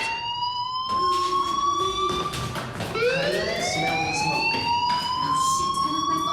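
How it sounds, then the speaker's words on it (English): A fire alarm sounds in the video game Life is Strange as a loud, continuous electronic siren whose tone keeps sweeping upward in repeated cycles, with no talk over it. "do you hear that fire alarm? That means you should be outside."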